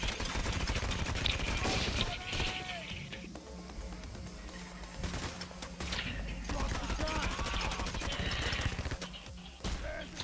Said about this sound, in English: Wow, this shotgun sucks.